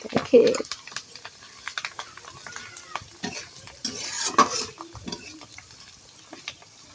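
Coarse rice grains dropped into hot meat oil, crackling and popping as they puff, with scattered sharp pops, stirring clinks and a voice talking intermittently over the frying.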